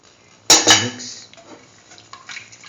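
A spoon stirs chocolate coconut milk vermicelli soup sweetened with brown sugar or jaggery in a pot, opening with two loud metallic clanks against the rim, then soft intermittent scraping and clinking.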